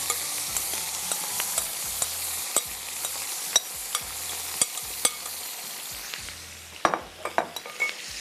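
Chicken pieces sizzle in hot oil with a steady crackling hiss, punctuated by sharp clinks and scrapes of a utensil stirring the pan.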